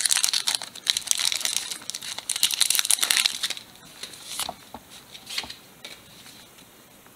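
A crinkly foil Pokémon Sun and Moon trading card pack being torn open and crumpled, a dense rustle for a few seconds that then thins to scattered sharp crackles.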